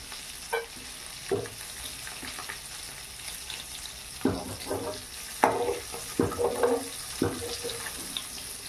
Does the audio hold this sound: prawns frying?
yes